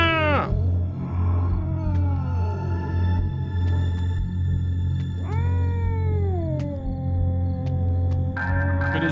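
A cat in the horror video game DreadOut 2 meows repeatedly, several drawn-out falling cries over a steady low game hum, close and clear.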